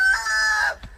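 A chicken gives one short, loud call up close, a brief drawn-out squawk that fades after under a second.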